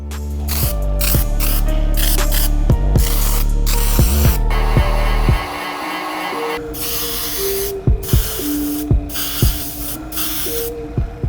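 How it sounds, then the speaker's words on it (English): Spray paint hisses onto sneakers in bursts as black coats and sealant go on, with the can's rattle and the nozzle's clicks between loud, close sprays. "spray one more coat of black and then one more coat of sealant"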